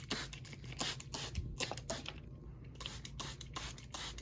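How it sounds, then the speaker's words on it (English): A spray bottle misting baby plants in a small indoor plant nursery, with quick repeated bursts of hissing spray in an uneven rhythm, close and fairly quiet. "I'm also just gonna give them a quick little spray down."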